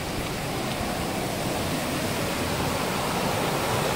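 Spring water wells up and flows at the source of a river, a steady, close rushing wash that fills the whole moment with no voices.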